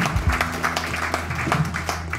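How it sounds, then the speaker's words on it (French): A live comedy show audience in a hall claps and applauds for a performer, a dense, continuous patter of hands filling the room for a couple of seconds. "Applaudissez-le bien fort."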